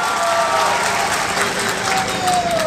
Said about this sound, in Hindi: जरा जोरदार ताली होनी चाहिए शेखपुरा के लिए